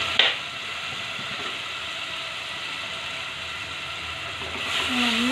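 Salted food being sautéed in a pan gives a steady, close hiss with faint scraping, continuous throughout, and a brief voice near the end.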